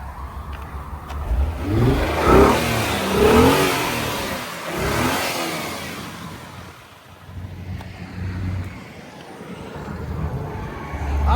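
Engine of a 1998 Mitsubishi 3000GT SOHC, started after sitting for 12 years and running rich, rises and falls through several loud revs, then settles back to a rough idle.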